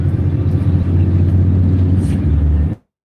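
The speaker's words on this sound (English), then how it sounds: "We're on the Jam bus." Steady low engine rumble inside a moving bus, a continuous loud drone with road noise that cuts off abruptly near the end, no talking.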